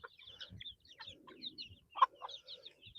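Backyard chickens cluck and chirp in short, close bursts over a quiet background, with several birds calling at once.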